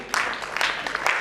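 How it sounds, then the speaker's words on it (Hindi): An audience at a poetry gathering bursts into applause, a brief, close wash of quick overlapping claps lasting about a second. "एक बार जोरदार ताली प्लीज"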